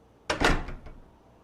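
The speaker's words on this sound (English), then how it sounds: "She slammed the door shut behind us" A door slams shut in a video game, one sharp loud impact followed by a brief rattling tail, with no talk.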